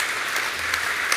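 A church congregation breaks into applause, a dense, steady wash of many hands clapping together at an even level throughout the short moment.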